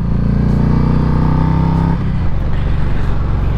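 A Yamaha Stratoliner Deluxe motorcycle engine revs loud and high while riding, holding a rising steady drone before dropping sharply as the gear shifts, then settling into a rougher lower roar, close to the rider.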